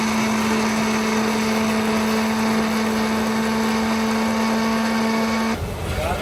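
A mixer grinder runs steadily at a high-pitched whine as it grinds a browned-onion gravy for Mughlai chicken handi. The loud, constant buzz holds for several seconds before the motor note suddenly drops away near the end.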